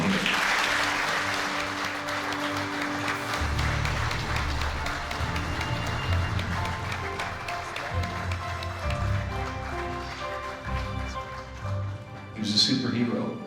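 An audience claps steadily and densely at a military memorial ceremony as a fallen soldier's family comes forward, the applause sustained throughout with a brief brighter burst near the end.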